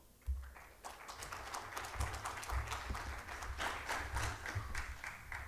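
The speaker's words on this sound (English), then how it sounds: "So give him a round of applause." A round of applause from the audience at a conference talk on MEV rewards for solo stakers, a steady patter of many hands clapping that lasts throughout over a low background hum.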